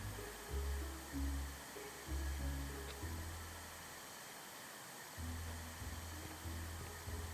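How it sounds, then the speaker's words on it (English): A vacuum cleaner in the House Flipper 2 video game drones in repeated low bursts as it switches on and off, a steady hum over a quiet background hiss. "Okay, and then we're going to vacuum."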